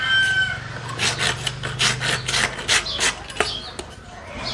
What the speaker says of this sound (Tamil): உங்களுக்கு எந்தளவு சொரசொரப்பு வேணுமோ அந்தளவு நம்ம சோப்பு வந்து இப்படி நல்லா ஸ்க்ராட்ச் பண்ணி விட்டுருங்க